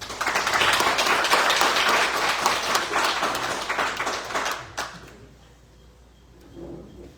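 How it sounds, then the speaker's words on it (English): A room applauds during a city council meeting, with dense, sustained clapping for about five seconds that fades quickly into quiet room tone, followed by a faint voice near the end. "Can we get a round of applause for us?"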